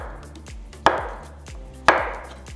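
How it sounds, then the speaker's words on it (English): A knife chops a banana into small pieces on a cutting board, two firm evenly spaced knocks against the board with lighter taps between, close and clear with no talk. "So next I'm cutting a banana, just chop it into small pieces."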